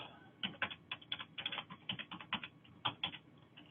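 Someone types on a computer keyboard in bursts of quick, crisp key clicks with brief pauses between them. The typing is close and clear, with no talking.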